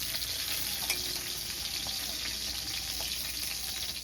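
Large catfish pieces fry in oil in a karahi, giving a continuous, fairly quiet sizzle with small crackles and pops.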